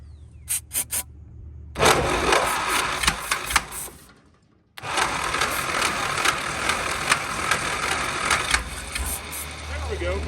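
A 1933 Dodge truck engine turns over on a struggling starter, with a few short bursts and then long stretches of fast, rattling churning, loud and close, with a pause between attempts and talk mixed in.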